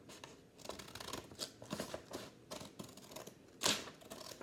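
Scissors cutting through a sheet of paper to trim it into a square for a paper fortune teller, a run of close, crisp snips and rustles with one sharper cut near the end.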